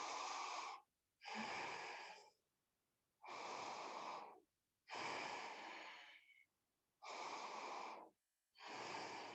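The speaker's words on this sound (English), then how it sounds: "just a nice deep breath" Slow, deep breaths during a yoga exercise: six long, soft airy inhales and exhales, each lasting about a second or more, separated by brief quiet gaps, close and alone.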